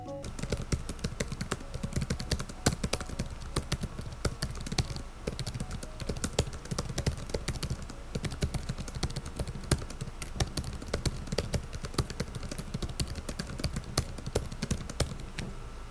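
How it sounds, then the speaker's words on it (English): Steady typing on a 2025 Zephyrus G14 laptop keyboard, rapid soft key clicks in an uneven rhythm, close up and continuous with no talking. "So here is a keyboard sound test."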